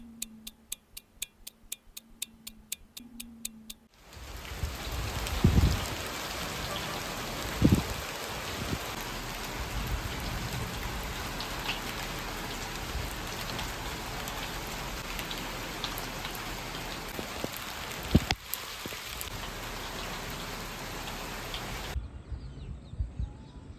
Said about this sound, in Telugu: విపరీతంగా వర్షం అలా వచ్చేసిందనమాట